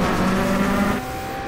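BMW hybrid LMDh V8 race car in iRacing at Watkins Glen, a loud sustained engine note holding steady pitch, then dropping slightly in level as the car lifts.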